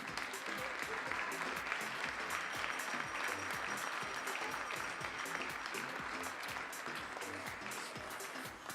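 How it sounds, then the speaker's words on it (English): Audience clapping at a European championship junior women's air rifle event as the fifth-place shooter is honoured, a steady mass of quiet hand claps from a distant crowd holding even throughout. "please give a warm round of applause for Sofia Benetti."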